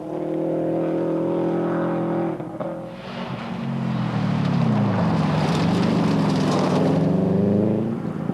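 Rally car engine revving and passing, a Subaru WRX station wagon on a rally stage, the note rising and falling through gear changes with a swelling roar as it nears, plus wind buffeting.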